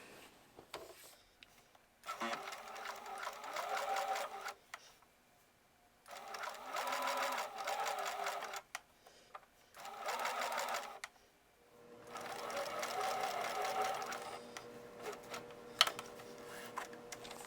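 A sewing machine runs gathering stitches along a skirt pattern piece from seam line to seam line, whirring in several steady bursts of a few seconds each with short pauses between, fairly close and without talk.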